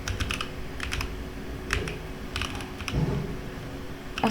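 Typing on a computer keyboard while creating a CSS file: quick, close clusters of crisp key clicks in irregular bursts, loud and alone against low background hum.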